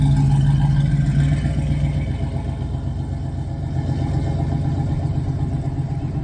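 A 1966 Pontiac Catalina wagon's engine rumbles steadily as the car pulls away, a loud mid-pitched drone that fades slightly before holding level.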